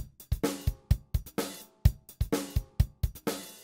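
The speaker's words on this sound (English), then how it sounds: "I've loaded up a simple drum loop." Simple drum loop from FL Studio, dry and punchy, with kick, snare and hi-hat hits repeating in a steady programmed groove, clear and alone with no voices.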